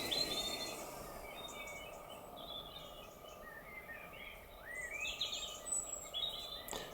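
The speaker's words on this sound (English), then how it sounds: "Isn't it lovely to hear the birds out this late?" Birds chirp and twitter faintly in the distance over a steady evening outdoor hush, with scattered calls throughout.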